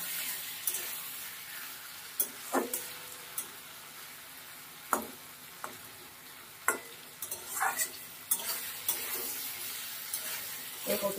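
Potatoes, onion and chili paste stir-frying together in oil, a quiet continuous sizzle broken by repeated sharp spatula scrapes and taps against the pan at irregular intervals.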